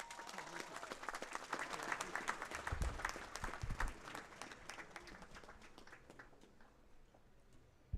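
Applause at an outdoor university graduation ceremony, a faint, distant patter of clapping with uneven bursts and some low thumps that gradually fades toward the end.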